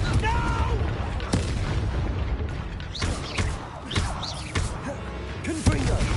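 Confringo spell blasts from Hogwarts Legacy combat, a series of booming bursts and sharp impacts scattered across a loud battle, with voices shouting in between.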